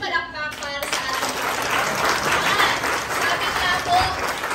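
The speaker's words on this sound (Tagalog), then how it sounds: "Isa nga pong malakas na palakpak para sa ating" A church congregation in San Pedro bursts into loud, steady applause that starts right after a brief spoken line and keeps going evenly to the end.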